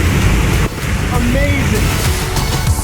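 Fossil Creek Falls in Arizona pours in a constant, loud, broadband roar of rushing water, with wind buffeting the microphone and a voice speaking over it.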